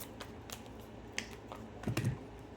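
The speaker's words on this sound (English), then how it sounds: "Let us shuffle really quick." Tarot cards shuffled by hand in quick riffles, a soft papery rustle with a few sharper flicks near the end, close and fairly quiet with no talking.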